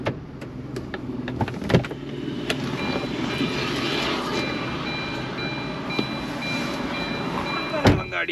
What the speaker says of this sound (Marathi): गाडी पुढे आली, पुढे चालली आहे।